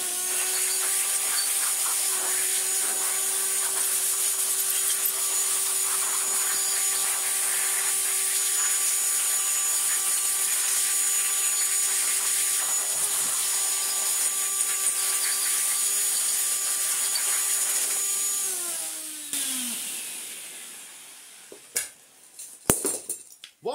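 A Vorwerk VR100 / Neato XV robot vacuum cleaner runs with a loud, steady motor whine and tonal hum, then spins down near the end, followed by a few sharp knocks and clatters.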